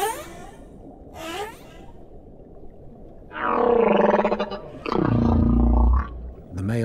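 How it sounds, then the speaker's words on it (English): A male humpback whale sings in the deep ocean, with long, wavering moans and rising cries. A faint call opens the song, then two loud, sustained phrases follow one after the other, close and resonant, with no other sounds around them. "The male humpback may sing for hours or even days."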